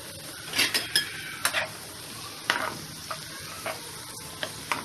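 Chickpeas stirred into sautéed onions in a pan for a wild vegetable bhaji, giving soft sizzling under a string of sharp spoon scrapes and clinks against the metal, close and fairly quiet, with no talking.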